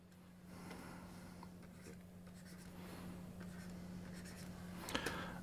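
A pen scratches lines on paper in short strokes, quiet and close, over a steady low electrical hum.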